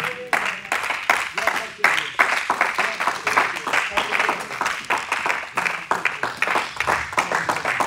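A church congregation at a prayer camp applauds and acclaims Jesus, with dense rhythmic clapping and shouting voices sustained throughout, loud and close, mixed with cheering.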